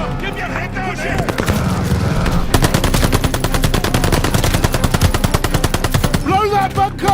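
Machine gun fire rattles in long, rapid, loud continuous bursts in a combat video game, with shouted voices heard briefly at the start and end.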